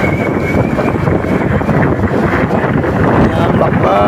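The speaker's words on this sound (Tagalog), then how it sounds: "Lakas ng hangin." Strong wind buffets the microphone while riding a newly broken-in motorcycle, a loud continuous roar with a faint whistling tone throughout, no talk over it.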